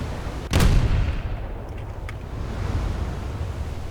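A single heavy naval gun blast from a warship in the War Thunder video game booms close and loud, then a low rumble fades into wind-like background noise, with no talking.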